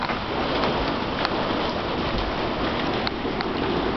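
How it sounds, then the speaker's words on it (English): Heavy, steady rain pours down continuously during a thunderstorm in Medicine Hat, a dense hiss of drops drumming on surfaces with no pauses. "And then it was pouring rain."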